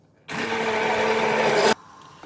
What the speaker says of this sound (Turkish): Şimdi tüm malzemeyi arkadaşlar blenderdan geçireceğim.